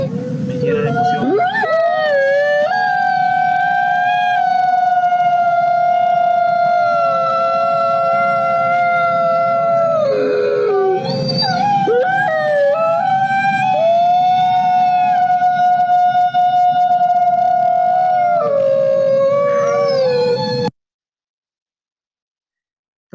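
Wolves howl together in long, loud, sustained wails that glide up and down in pitch, overlapping and layered, before cutting off abruptly near the end.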